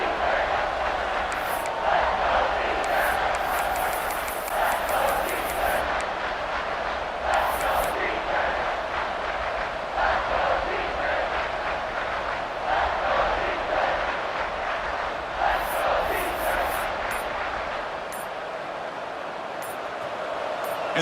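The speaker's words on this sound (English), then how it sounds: "And this big crowd doing everything possible to inspire this defense down here near the goal line." A big crowd in a stadium at an American football game roars steadily from a distance. The cheering swells in waves, with whistles and shouts on top and a commentator talking over it.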